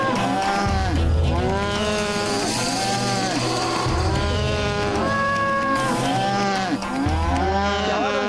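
A herd of cows mooing in a cattle pen, loud drawn-out calls rising and falling repeatedly and overlapping, filling the whole stretch without any speech.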